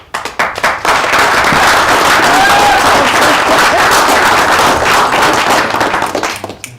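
Loud, close applause from the audience at a safari guide awards night, a dense roar of clapping that swells quickly and holds strong before tapering off at the end.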